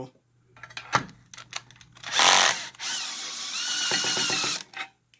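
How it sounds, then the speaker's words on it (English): Power drill backing screws out of the cover of a lithium-ion battery inverter, a loud whirring burst followed by a longer steady whine with short clicks and knocks around it. "taking off the screws here"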